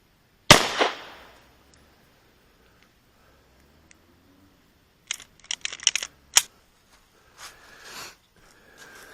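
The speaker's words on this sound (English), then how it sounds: "I got one shot in the chamber here, so I'm just gonna do a long shot here" A single sharp, loud rifle shot cracks out at a long-range target and then decays, followed by quiet. Later come clicking and handling noises of the rifle and some faint distant sounds.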